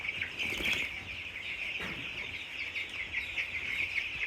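Chickens in the video game Dying Light 2 give a continuous busy clucking and chattering, with a couple of brief bursts of wing flapping near the start and middle, close and steady throughout.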